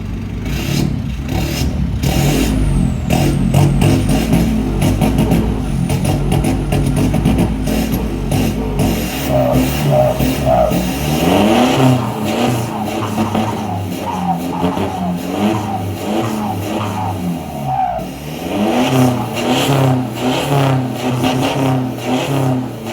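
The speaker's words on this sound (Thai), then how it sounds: "ไปฟังเสียงท่อกันดีกว่าครับ" An Isuzu Hi-Lander four-door pickup truck with an aftermarket exhaust is revved repeatedly up close, the engine note climbing and falling in long sweeps over a steady rumbling idle, loud and continuous with no talking.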